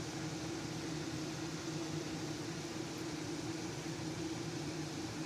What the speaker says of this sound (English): I'm going to leave it where it's at, where it's blowing air out